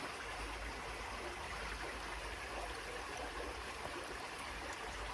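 Water rushes steadily through a gold prospecting sluice at a creek, the bottom section carrying garnets and black sand, making a continuous broadband wash with no breaks and no voices.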